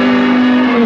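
Steady loud droning engine hum of a lawn mower sound effect, a constant tone with no variation, heard alone and close.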